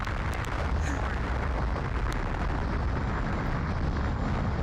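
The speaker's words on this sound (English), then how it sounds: "I couldn't hear it over the giant explosion." A giant explosion in the space combat game Colony Wars comes through as a dense, sustained roar of noise with deep low rumble, loud and unbroken across the whole stretch.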